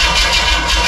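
A 427 big-block V8 in a 1972 Chevelle with aftermarket headers cranks steadily without firing, a loud, continuous churning drone for under a second with no voices over it.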